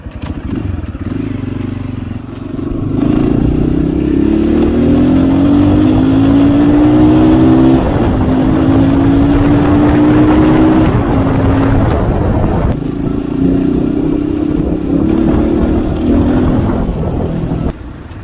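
RUSI KR-250 carbureted motorcycle engine cranks and catches, then settles into a loud, close idle with repeated rising revs that climb and drop over several seconds.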